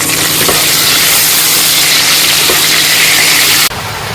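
Cinnamon, cardamom and a bay leaf fry in hot oil left from browning meat, giving a loud, steady sizzle that continues unbroken and drops off abruptly near the end.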